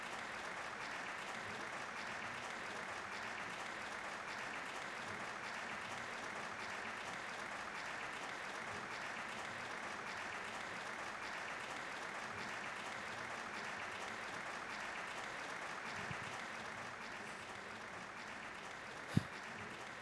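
Steady, even applause from a crowd, a stock sound effect in the video game Trails of Cold Steel, rolls on evenly for the whole stretch at moderate level, with no voices over it.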